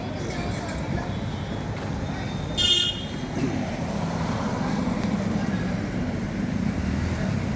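Steady road traffic rumbles beside Hotel Meera Mahal in Sawai Madhopur, with a short, loud car horn toot rising above the continuous din and a voice talking over it.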